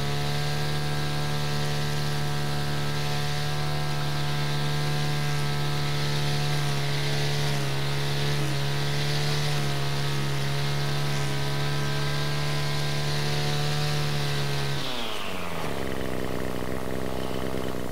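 A brush cutter fitted with a homemade debris guard cut from 100-yen-shop plastic strips runs through grass, its engine a loud steady whine for about fifteen seconds before dropping off abruptly near the end.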